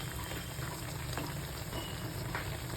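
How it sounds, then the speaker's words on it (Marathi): Motichoor boondi frying slowly in oil over a low gas flame, a steady soft bubbling sizzle that stays even and continuous throughout, with no voices. "चांगले भाजू द्यायचे आपण घाई करायची नाही बारीक गॅसवरच भाजायची"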